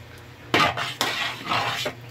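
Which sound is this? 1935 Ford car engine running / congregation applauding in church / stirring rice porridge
stirring rice porridge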